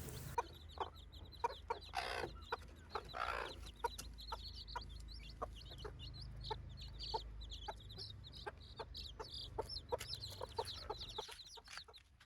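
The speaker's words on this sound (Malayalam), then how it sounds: "ഈ കോഴി നല്ല കുട്ടികളെ നോക്കുകയും ചെയ്യും" A mother hen clucks among her ten chicks, a run of short, evenly spaced clucks with faint high peeping chirps between them, close and fairly quiet throughout.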